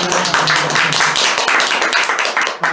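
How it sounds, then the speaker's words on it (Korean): Seminar attendees at a counseling psychology lecture on NLP trauma therapy clap to welcome the guest doctor, producing close, loud, rapid hand claps that fill the whole three seconds without a pause. "여러분 박수 청해 주시기 바랍니다."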